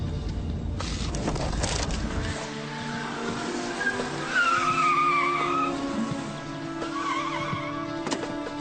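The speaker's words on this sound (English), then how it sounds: "There's a vehicle leaving the target address now." Police cars chase a fleeing vehicle whose tires squeal and skid in long, loud wavering whines over revving engine noise, close by, with no talk.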